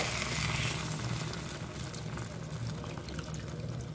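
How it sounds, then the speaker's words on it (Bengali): Water poured into a pan of cauliflower, potato and paneer curry: a steady, low splashing pour that fades into a softer trickle and bubbling, fairly close and alone. "এবার এর মধ্যে আমি জল দিয়ে দেব।"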